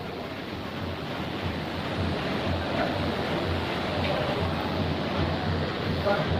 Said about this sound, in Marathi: आणि हे समोर वाहते ही यमुना नदी.